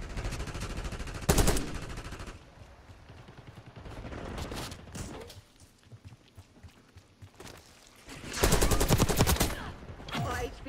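Automatic rifle fire in the shooter game Call of Duty Black Ops 6, with sharp rapid bursts near the start and a longer loud burst toward the end, separated by quieter stretches of distant shots.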